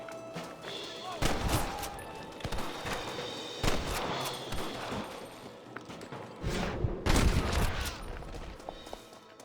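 Gunfire in the Red Dead Redemption video game: a dense volley of loud, sharp shots in two clusters, with scattered single cracks between them over a noisy background.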